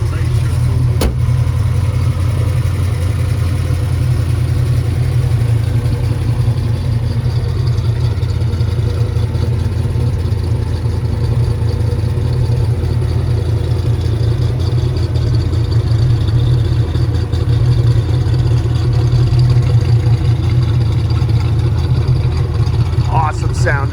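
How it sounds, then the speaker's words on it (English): A 1970 Ford Mustang Boss 302 with a 4-speed idles with a deep, steady exhaust burble, close and loud, holding a continuous low rumble for the whole stretch with no clear revving. "Awesome sounding exhaust."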